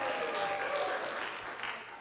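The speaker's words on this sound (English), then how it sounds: "A round of applause for all our improvisers." Audience at an improv theatre show applauding, a dense, steady clapping that fills the room for a couple of seconds and tapers slightly toward the end.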